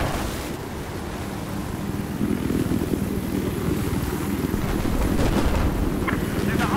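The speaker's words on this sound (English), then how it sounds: "I hope that chopper gets lased." A helicopter in Battlefield 4 thumps and drones steadily under a constant windy rush, growing slightly louder toward the end.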